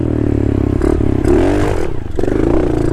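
A dirt bike engine revs hard and steady as the rider pins the throttle climbing from ice onto dirt up a hill, the note rising and dipping with gear changes, loud and close throughout.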